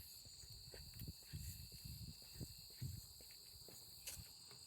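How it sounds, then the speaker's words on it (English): Crickets chirp steadily along a quiet nature trail on a weekday, a faint high continuous trill with soft footsteps crunching nearby on the path. "Can you hear the crickets?"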